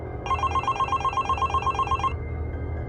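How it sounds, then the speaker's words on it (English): A telephone bell rings in a rapid, continuous trill for about two seconds, then stops, leaving a quiet background hum. "when the phone rang"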